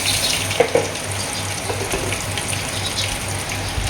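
Water is poured into khaman batter, a short steady gushing stream close by, with a couple of soft clinks near the start.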